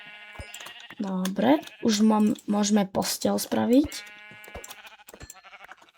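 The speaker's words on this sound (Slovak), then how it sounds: "ale vidím ovce, čo je dobré." Minecraft sheep bleat several times in quick succession, loud and close, with wavering calls over a quiet game background; someone speaks briefly at the start and end.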